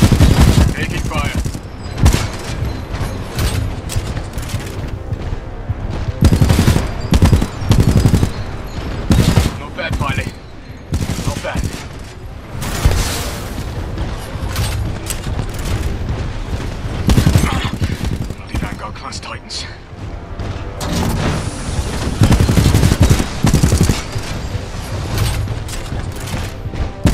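Intense gunfire in the video game Titanfall 2, rapid volleys and automatic bursts with booming impacts packed densely throughout a long, loud combat stretch, with voices speaking over it.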